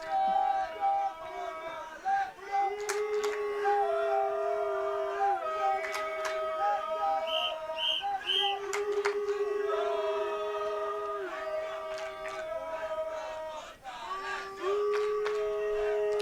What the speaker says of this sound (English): Both lines trying to cheer each other up, pump each other up